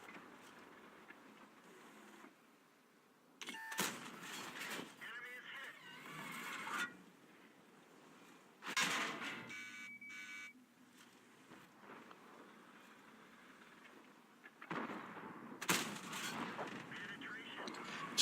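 AMX 50 120 tank cannon fire in World of Tanks: several heavy, booming shots spaced seconds apart, each with a rumbling tail, separated by quiet stretches and faint wind noise.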